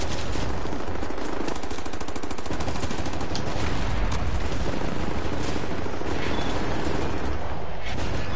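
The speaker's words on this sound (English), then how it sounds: "There's a high-powered machine gun nest in those trenches over there." A high-powered machine gun fires from a trench nest in the Wolfenstein video game, a loud sustained rattle of rapid bursts that continues almost without pause, with no speech.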